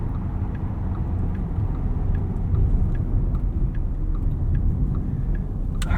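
Cabin noise in a 2024 Porsche Cayenne Turbo E-Hybrid Coupe on the move: a steady low rumble of engine and road with no talking, plus faint ticks near the end.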